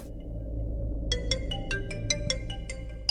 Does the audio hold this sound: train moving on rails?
no